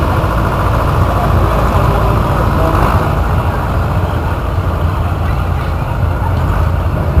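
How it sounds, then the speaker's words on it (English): A 1959 Ford 891 tractor engine runs steadily at a show, a loud, continuous low rumble with no change in pace, close by, with some faint background voices. "Next up we have Jason Florence on a 1959 Ford 891."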